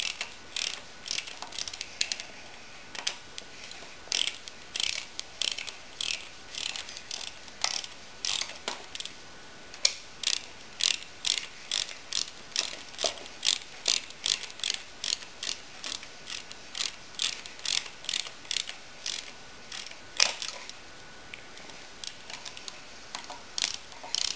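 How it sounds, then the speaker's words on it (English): A ratchet wrench clicks in rapid repeated bursts while tightening bolts inside a Yamaha V-max engine, the sharp metallic ticks steady and close, with brief pauses between strokes. "I doubt my wrench is going to fit in here properly, but we'll see how it goes here."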